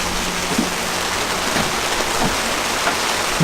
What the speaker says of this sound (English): we're totally stuck in the rain here working